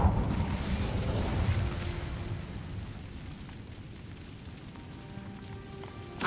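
An Incendio fire spell is cast in Hogwarts Legacy, a rumbling fiery burst at the start that tails off into a low, fading roar with a faint pop near the end.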